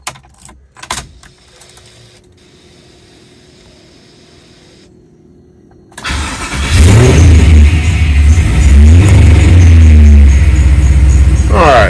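Keys jangle in near-silence, then after a pause a truck engine cranks and catches with a loud burst and settles into a strong, steady running rumble, revving slightly as it warms up.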